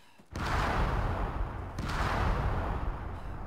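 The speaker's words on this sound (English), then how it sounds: "Mortar fire? No, those are explosives. That. Those are IEDs." Two loud, broad IED blasts from the military video game Arma 3 with the OPTRE mod, each a sharp onset followed by a long, rolling rumble, the second coming about a second and a half after the first.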